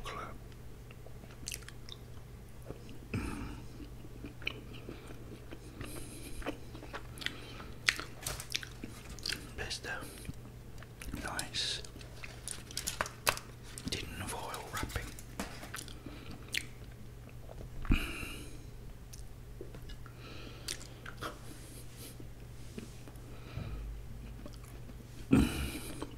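Close, crisp bites and wet chewing of a Cadbury chocolate Easter egg, with sharp snaps spread irregularly through a long, quiet stretch of chewing.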